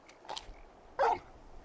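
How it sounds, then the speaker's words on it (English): Torgal, the dog in Final Fantasy XVI, gives a couple of short, soft barks, the second a bit louder, over quiet background. "You're just a big puppy, aren't you?"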